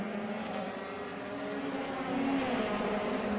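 A Euro Formula Open single-seater at Jerez de la Frontera powers out of the hairpin, its engine a steady, fairly distant buzzing drone that swells slightly in the final second, with no voices.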